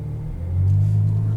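A 2020 Ferrari GTC4Lusso V12 pulling away from a stop, a deep steady engine rumble heard from inside the cabin that rises slightly in pitch and loudness halfway through.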